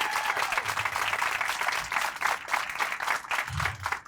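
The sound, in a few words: audience applause at a ribbon cutting ceremony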